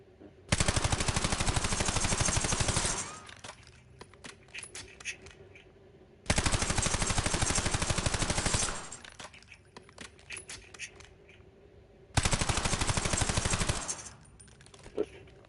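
Three long bursts of automatic gunfire at the firing range in the video game Call of Duty: Black Ops, each loud and sustained for a couple of seconds, separated by quieter gaps with faint clinks.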